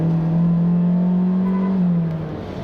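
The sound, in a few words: Kia Forte four-cylinder engine noise while accelerating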